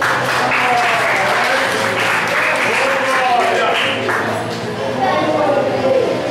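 Congregation applause during an Assembleia de Deus church service in Brazil, clapping for Jesus: a sustained, full wash of hand claps with voices calling out over it, steady and loud throughout.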